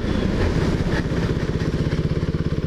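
A KTM Duke 390 motorcycle brakes hard on its rear brake, its single-cylinder engine thrumming steadily and slowing into an even low pulsing beat, close and continuous.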